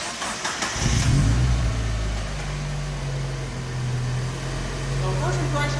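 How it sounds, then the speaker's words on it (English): A $500 Mazda Miata with a full Racing Beat exhaust (header, test pipe with no catalytic converter, and muffler) cranks and fires at about one second, then settles into a steady, deep, loud idle that fills the rest of the clip. "this is our first startup with a full Racing Beat exhaust"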